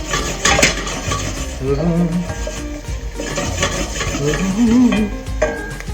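Chopped garlic stirred in a hot pan: a utensil scrapes and clinks against the metal in an uneven rhythm over a busy, fairly loud kitchen background, with no talking.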